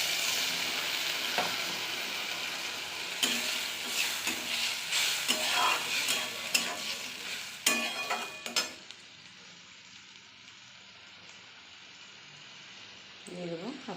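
Steady frying sizzle from a pan of ghugni, a Bengali chickpea curry, with stirring and a few utensil knocks, then a quieter, subdued simmer once water goes in partway through.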